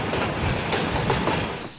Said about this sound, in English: The cargo is being transported to Nairobi on three trains, each pulling 17 wagons.